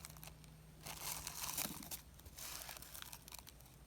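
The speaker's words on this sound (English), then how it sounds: "you're going to cover the top with your plastic wrap" Plastic wrap crinkling and rustling as it is stretched over the top of a toilet paper roll, a faint, close crackle in bursts with short pauses between handlings.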